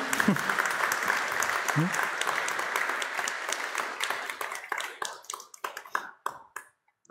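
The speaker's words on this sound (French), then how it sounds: "Je pense qu'on peut lui donner une belle main d'applaudissements." An audience applauds after a conference, with dense clapping that thins into scattered claps and fades away, and a voice can be heard briefly near the start.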